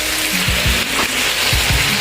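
Freshly washed celery leaves drop into a frying pan and set off a loud, steady sizzle up close, a continuous hiss with faint low knocks beneath it and no voices.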